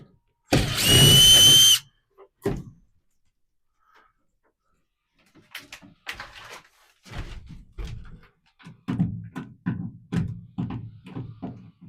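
Power drill whirs in one short loud burst while driving a wood screw, followed by quieter knocks and handling noises with someone talking over them.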